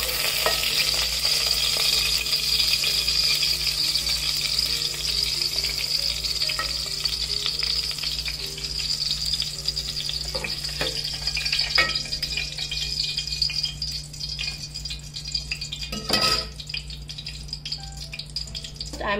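Green chilies fry in hot oil for Hyderabadi mirchi ka salan, a loud, steady hiss and crackle with occasional pops and stirring clatters, continuing for nearly twenty seconds without any talk.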